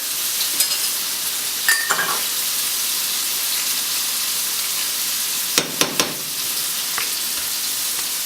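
A steak frying in a pan as butter melts around it, a steady close sizzle with a few sharp clinks and taps of utensils against the pan.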